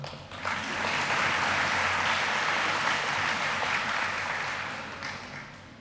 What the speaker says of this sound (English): You can clap for me if you like.